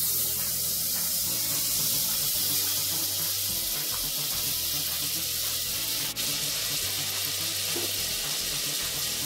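Two tablespoons of butter melting in a heavy pressure cooker over a low flame for homemade popcorn, giving a steady, continuous hiss and sizzle, fairly loud and close, with no one talking.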